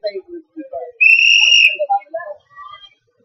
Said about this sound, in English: Whistle call.